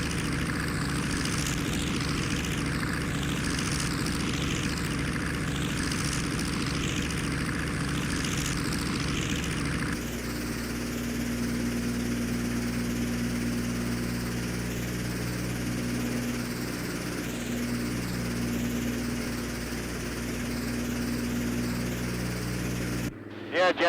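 Twin piston engines of a B-25 Mitchell bomber drone steadily in flight, loud and close from inside the cabin, with the engine tone shifting partway through.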